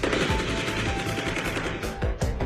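Bursts of rapid gunfire ring out during a night police standoff with armed robbers in Campinas, São Paulo, the shots crackling in quick repeated volleys with sharp louder cracks near the end.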